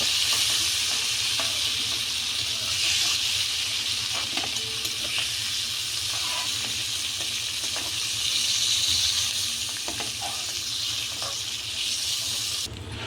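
Tomato dropped into hot oil in a pan, cooking for a Bengali fish curry with cauliflower: a steady close crackling sizzle throughout, with faint scraping and no talk.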